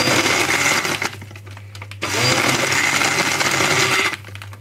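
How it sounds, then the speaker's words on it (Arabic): A blender pulse-crushes ice and sugar for an Oreo drink in loud, whirring bursts, cut off by short pauses between pulses. "انا بحاول اضرب ضرب متقطع عشان عايزه ادوب السكر، ادوب التلج الاول"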